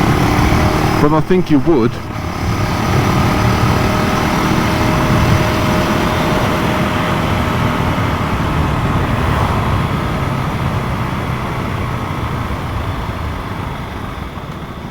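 KTM 390 Duke single-cylinder motorcycle engine while riding on the road, a steady droning engine note heavily mixed with wind rush, with someone talking briefly over it.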